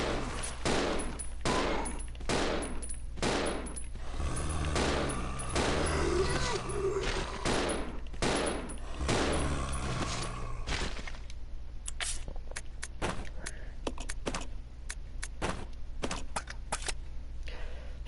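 Repeated gunshots in the survival-horror game Resident Evil 0, a series of sharp, separate shots at a steady rhythm over a low game backdrop, with spoken commentary laid on top for part of the time.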